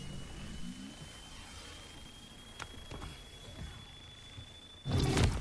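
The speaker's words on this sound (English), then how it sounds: "And then watch as it beeps and boops and explodes." An artifact charger in STALKER 2 gives thin high steady tones with a few clicks, then ends in a sudden loud burst of an explosion.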